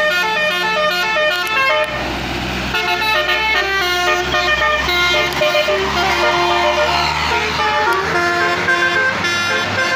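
A Mercedes-Benz Jetbus5 coach plays its full basuri melodic horn while climbing the steep Brambang hill in Gunungkidul, loud, tuneful honking phrases repeating throughout over engine rumble.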